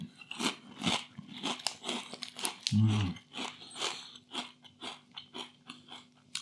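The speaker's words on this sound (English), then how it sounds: "Absolutely loads of crunch." Kettle-made M&S mature cheddar and spring onion hand-cooked crisps crunch in repeated bites, loud and close, with one heavy chomp midway and steady chewing throughout.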